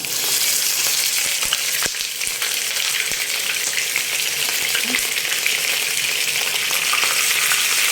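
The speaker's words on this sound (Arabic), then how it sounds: "لازم يا جماعه السمنه مع الزيت تسخن كويس قوي، تمام، وهنبدا نحط العرق ناخد الصدمة" Meat sears in a small pan of hot ghee and oil, giving a loud, steady, crackling sizzle throughout with a few sharp clicks and no talking.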